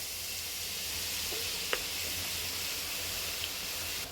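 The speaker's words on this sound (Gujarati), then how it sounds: "4-5 ચમચી જેટલું તેલ લઈશું। આમાં નાખીશું લસણ।" Garlic frying in a few spoonfuls of hot oil for pav bhaji gives a steady close sizzle and hiss that stays even throughout, with a couple of faint clinks and no talking.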